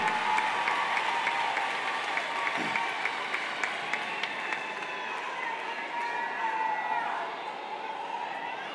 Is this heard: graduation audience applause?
yes